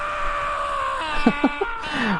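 A drawn-out, wailing scream from a creature in Bloodborne holds a strained tone, then breaks into a few short, gasping cries before trailing off, moderately loud over a low background.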